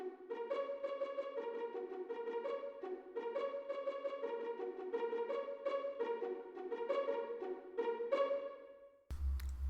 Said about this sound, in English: pizzicato, which sounds like this